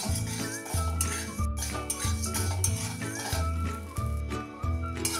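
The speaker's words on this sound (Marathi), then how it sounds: "आता हे मीठ आपण गरम करून घेऊया" Salt is dry-roasted in a hot pan and stirred steadily, giving repeated rhythmic scraping and gritty rustling strokes at close range, with a faint steady tone in the background and no talking.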